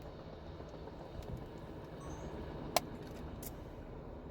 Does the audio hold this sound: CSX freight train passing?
yes